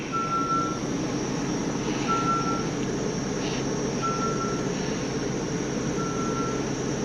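A 2008 Monaco Diplomat 40PDQ diesel pusher with a 400 Cummins and a low-battery alternator fault idles in a steady, close, broadband rumble, while a thin electronic beep repeats about every two seconds.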